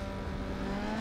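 A race car engine in Need For Speed Underground 2 holds a steady, close roar as it speeds across grass, the tone unbroken and loud for the whole moment.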